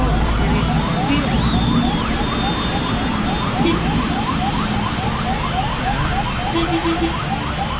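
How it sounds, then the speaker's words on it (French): An ambulance siren wails steadily throughout with repeated rising and falling sweeps, loud and close, inside a vehicle travelling to a hospital in Dhaka under a police escort, with engine and road rumble beneath. "It's a real ambulance."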